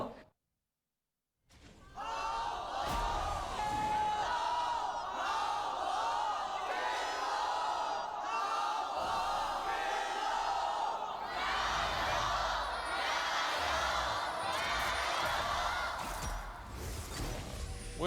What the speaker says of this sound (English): Our canned crowd is going ballistic for our two teams here